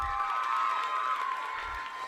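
Brief burst of crowd noise at a gala, high shouts and whoops ringing over faint clapping as the audience cheers performers.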